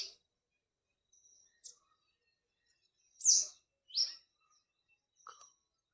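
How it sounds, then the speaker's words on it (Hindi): Birds chirp outdoors at sunrise with a few short, scattered calls, two brighter chirps standing out in the middle against near silence. "पंछी"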